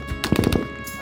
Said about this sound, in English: The sound of gunfire goes on for more than 5 minutes.